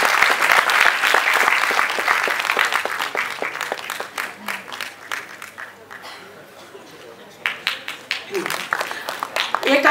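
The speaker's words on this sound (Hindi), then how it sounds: "एकांशी के लिए जोरदार ताली" Audience applause for a young prize winner at an award ceremony, a dense, steady burst of clapping that thins out midway, then picks up again toward the end.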